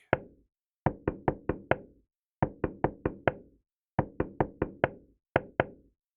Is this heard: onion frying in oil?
no